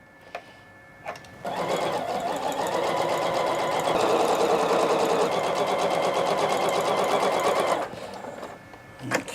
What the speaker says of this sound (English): let me go ahead and make 2 little seams here